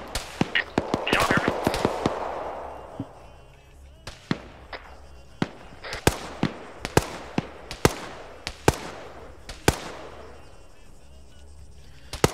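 Gunfire in a survival shooter game: repeated sharp cracks in irregular bursts, some close and loud, others farther off with trailing echoes, spread over several seconds.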